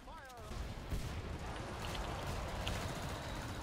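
Incendiary-round gunfire in the shooter Killing Floor 2, a dense, continuous barrage of shots and fiery bursts filling the scene at steady loudness, with game effects layered throughout.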